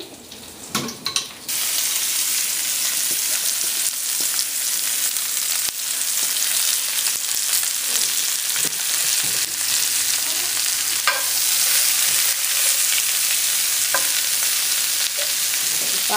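Seafood with scallops sizzles and fries steadily in a hot pan, a loud continuous crackle with occasional stirring scrapes, no voices.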